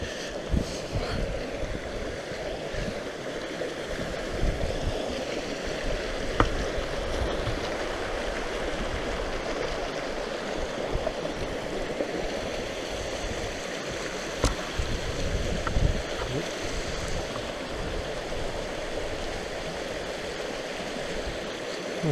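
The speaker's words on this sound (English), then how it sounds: "Still the River Breamish here." The River Breamish runs steadily through wild upland country near a bridge, a continuous close rush of flowing stream water with broadband hiss and low burble, unbroken and no voices over it.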